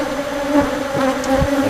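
Dense, steady drone of honeybees during a summer beehive inspection, as a top box comes off and a super goes in; continuous close buzzing with a few louder passes near the hive, and no talk.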